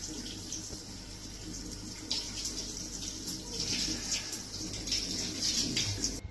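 Steady running water, like a tap or shower rinsing shampoo out of a hair replacement system, flowing continuously at a constant moderate level with no voices.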